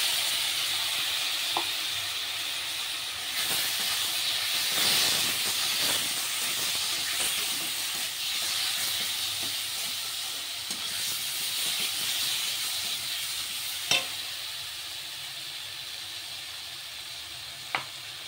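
Ground onion, garlic, ginger and green chili paste added to a hot pan: a broad steady hiss and sizzle that swells when the paste goes in, with a few clicks from a utensil and no talk.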